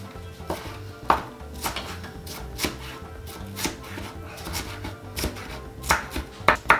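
A knife chops food by hand on a cutting board with irregular, close, crisp strikes, some sharper and louder than others, with no talk.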